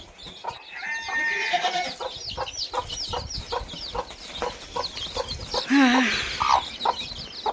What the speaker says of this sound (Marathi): कसं चिवचिवाट चालू आहे